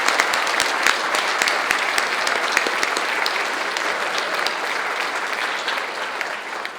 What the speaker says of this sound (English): we want to make sure that we give a big round of applause to the Middle Creek Kitchen Committee